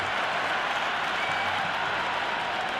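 A stadium crowd in the cricket video game Cricket 26 gives off a steady, dense roar and buzz from the stands, continuous and fairly distant with no distinct voices.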